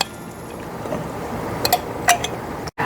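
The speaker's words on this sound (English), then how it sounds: "I'm just going to mix and cook this wonderful filling for 5 minutes" Blueberry tart filling being stirred in a pot on the stove, heard as soft wet mixing with a few light clinks of utensil against the pot near the end, close and fairly quiet with no talk.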